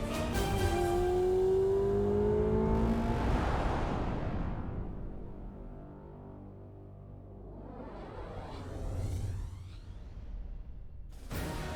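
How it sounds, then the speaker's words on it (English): A Ferrari V8 convertible sports car revs hard and rushes past, its engine note rising and then fading away before a second swelling pass. "The 8-cylinder is racing engineering built into a road sports car, yet suitable for everyday use."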